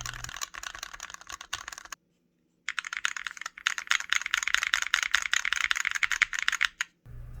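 Slab Mini all-button controller with LTC crystal red switches and clear MX arcade caps, rapid close-up clicking and clacking in dense bursts with one brief silent pause.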